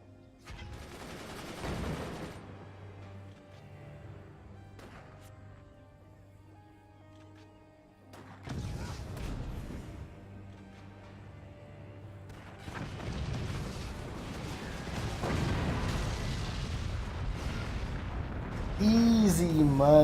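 Sniper rifle fire aimed at a mortar in a video game: several loud, booming shots and impacts spaced across the stretch, heavier rumbling toward the end, with a person talking over parts of it.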